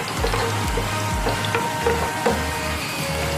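Garlic frying in a pan, a steady close sizzle with soft stirring and scraping knocks, plus a low rhythmic hum underneath.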